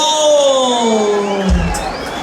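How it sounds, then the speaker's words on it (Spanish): A crowd at an outdoor community music event in Cochoapa el Grande cheers and shouts loudly, with whoops rising over a sustained musical tone and a thump near the end. "Venga el aplauso fuerte para toda la gente bonita de Cochoapa, el grande guerrero."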